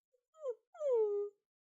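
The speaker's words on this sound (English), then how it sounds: "She wiggles her stubby tail without answering and whimpers." A small dog with a stubby tail gives two soft, high whimpers, a brief squeak and then a longer falling whine, close and alone in silence.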